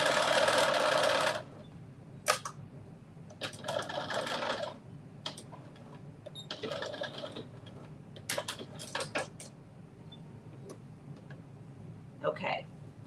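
A sewing machine stitches thin fabric around a pocket in short bursts, opening with a steady whirring run, then intermittent clicks and brief stitching spurts separated by pauses, fairly close and moderately quiet.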